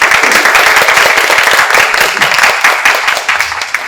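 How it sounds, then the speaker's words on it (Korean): A large lecture audience claps to welcome a pharmacy professor to a guest lecture, dense, loud applause sustained for about four seconds with no talk over it. "큰 박수로 맞이해주시기 바랍니다."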